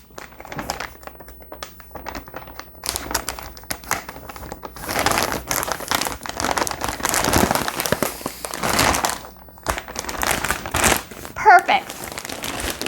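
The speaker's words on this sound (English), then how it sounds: "Once we have all the clothes in, we're going to use this plastic to seal up the bag." Crinkling plastic as a vacuum storage bag stuffed with clothes is pressed and sealed shut, irregular rustles and crumples building and fading close by, with a voice and other speech in between.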